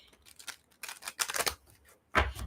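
Tarot cards shuffled by hand in bursts of crisp riffling and flicking, close and fairly quiet, with short pauses between each run.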